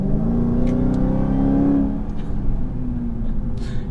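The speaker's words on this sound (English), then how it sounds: "Anytime you put your foot a little bit harder on the gas" A 2020 Dodge Charger SRT Hellcat Widebody's supercharged HEMI V8 rises in a loud, steady engine roar for about two seconds, then drops back to a lower rumble close by.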